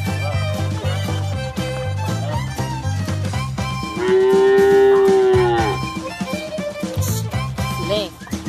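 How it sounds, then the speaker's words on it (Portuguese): Cattle on a farm moo, with one loud, drawn-out bellow rising in the middle over a busy background of other sounds, and voices talking around it. "Olha o boi."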